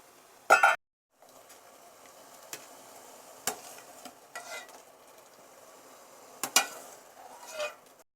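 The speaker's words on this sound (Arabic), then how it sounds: "انا كنشحر البصله مع شويه تاع الثومه مع الزيت ومع الملحه" Onion and garlic sauté gently in oil with salt, making a faint, steady sizzle. Sharp clinks of a utensil against the pan come at scattered moments.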